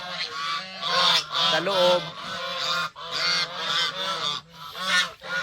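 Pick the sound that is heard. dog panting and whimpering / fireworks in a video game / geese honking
geese honking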